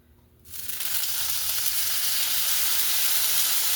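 Cornstarch-coated beef hits a hot pan for beef and broccoli, bursting into a loud, steady sizzle that starts abruptly after a quiet moment and holds as a continuous frying hiss.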